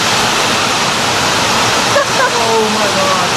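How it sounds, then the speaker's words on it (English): Heavy pouring rain on a farm during a storm, a loud, dense and steady wash of noise that fills the whole clip, with faint tonal sounds near the end. "It's starting to rain. As you can hear,"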